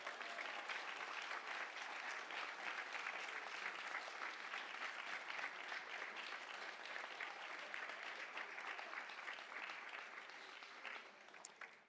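Audience applause at a scholarship awards ceremony, a dense, even wash of many hands clapping at steady volume that tapers slightly at the very end.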